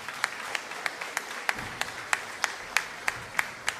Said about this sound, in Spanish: Un fuerte aplauso para todos los papás aquí, entonces.